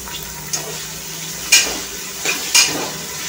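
Asafoetida and chopped vegetables sauté in hot oil, a soft continuous sizzle broken by a few sharp stirring scrapes and louder spurts of frying.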